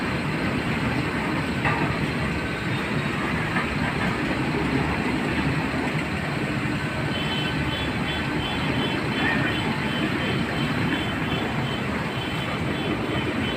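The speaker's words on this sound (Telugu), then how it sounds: "ట్రైన్ వస్తున్నది" A train passes close by near parked trucks in Visakhapatnam, a loud continuous rumble with rhythmic clatter of wagons on rails, steady from start to finish.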